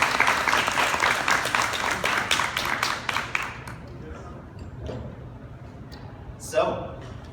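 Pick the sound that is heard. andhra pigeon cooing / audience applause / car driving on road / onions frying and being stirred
audience applause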